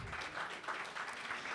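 An audience claps for volunteers at a French tech event, a steady wash of applause from a crowd that holds even and moderately loud for the whole stretch.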